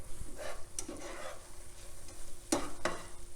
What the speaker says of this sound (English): we're gonna saute this for another 3 to 5 minutes until all the sugars start to caramelize around the tofu